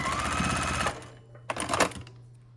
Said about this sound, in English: we'll sew across here with a 1/4 inch seam allowance this time